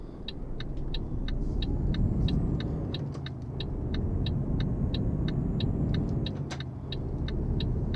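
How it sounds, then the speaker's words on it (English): Lorries rolling past on a road in Euro Truck Simulator 2, a steady loud low rumble of heavy traffic under an evenly repeating high ticking, without voices. "A lot of lorries going by at the moment."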